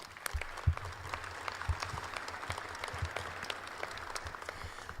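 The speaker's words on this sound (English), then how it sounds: "Let's give them a round of applause." Steady applause from a crowd at a live press event introducing a new women's basketball head coach, with dense continuous clapping heard from some distance at moderate volume.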